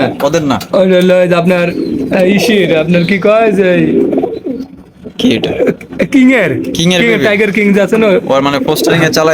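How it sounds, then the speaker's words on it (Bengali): A pair of Archangel pigeons coo in soft, throaty, repeated calls close by, mostly under loud talking voices. "খুবই চমৎকার একজোড়া আর্চেঞ্জেল কবুতর"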